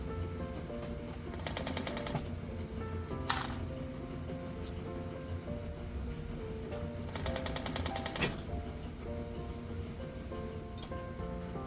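Sewing machine stitching a seam through mink fur, its steady mechanical whir running in bursts with pauses between, moderately close and fairly quiet.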